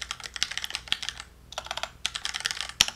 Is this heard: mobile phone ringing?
no